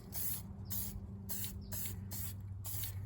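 A Krylon Workable Fixatif aerosol can hisses in six short, evenly spaced bursts, close and fairly quiet, over a faint low hum.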